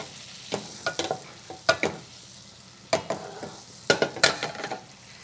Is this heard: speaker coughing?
no